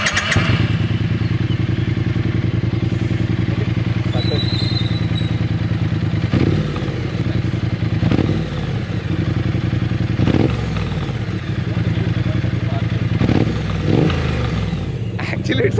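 A Triumph Street Twin motorcycle idles close by with a steady rumbling throb, broken by a few dull clunks and small revs, while a person speaks over it.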